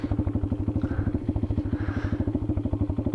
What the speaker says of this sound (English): This damn bike was just idle.